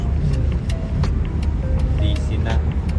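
Busy city traffic in Doha, Qatar near a train station, with many cars producing a steady, loud road rumble and occasional brief higher sounds, with no clear speech over it.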